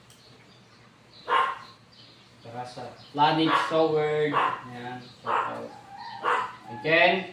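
A pet dog lets out several short barks and yips at close range, interleaved with someone talking.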